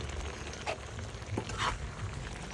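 Field eel being stir-fried with fresh hand-pounded curry paste gives a low, steady sizzle broken by a few soft scrapes and stirring clatters, close by and fairly quiet.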